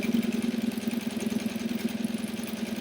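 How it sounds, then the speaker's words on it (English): A sewing machine stitching steadily, a close, continuous motor hum with a fast, even needle rhythm running without pause. "Then I go and I start sewing and I don't sew straight."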